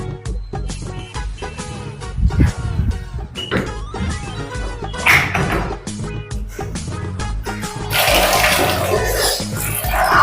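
Water is poured out for bathing, splashing and trickling in uneven spurts under occasional voices, becoming a louder steady gush near the end.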